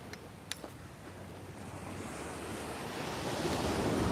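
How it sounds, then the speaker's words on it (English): Ocean surf breaks and washes steadily at a beach, mixed with gusty wind buffeting the microphone. The roar swells louder toward the end, with no talking. "So one last look at the ocean."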